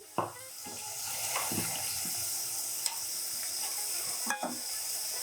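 Ginger garlic paste frying in a pan for veg fried rice, giving a steady close sizzle with scraping stirs and a few sharp clinks of a spoon against the pan.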